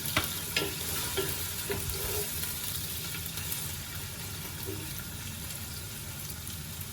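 Ingredients browning in oil in a pot for peas pulao, giving a soft steady sizzle with occasional stirring scrapes, fairly quiet and close, with no voices.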